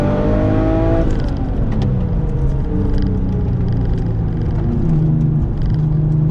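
A 575 BHP Porsche 911 996 Turbo X50 accelerates hard on canyon roads, its engine note climbing in steady rising sweeps, easing off and pulling again, loud and close throughout.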